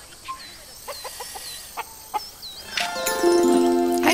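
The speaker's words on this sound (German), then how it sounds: "Ein Haushuhn, gewöhnlich, ja." A domestic chicken in the wildlife adventure game Alba gives several short, sparse clucks, then a brighter, denser run of calls and tonal bird sounds swells near the end, with faint ambient chirps throughout.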